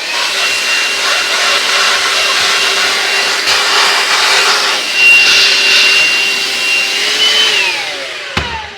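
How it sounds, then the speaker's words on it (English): A vacuum cleaner is rubbed over the wooden inside of a cabinet to pull away loose splinters, giving a loud, steady whining drone that cuts off abruptly near the end. "using the vacuum to rub over these to pull away some of the splinters"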